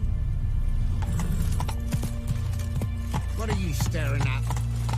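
Hooves of Roach, a horse in The Witcher 3 video game, clop in a rapid rhythmic patter under game music and a man's spoken line, with a few sharp clacks near the end.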